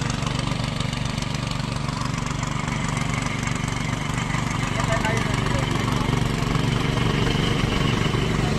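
A tractor engine running close by, a loud, steady low rumble with a continuous idling chug throughout, with people talking over it.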